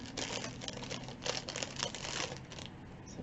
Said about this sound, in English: let me try to get this out of the cellophane